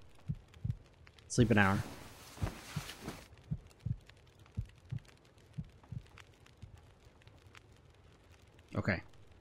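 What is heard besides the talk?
heartbeat sound in the video game The Long Dark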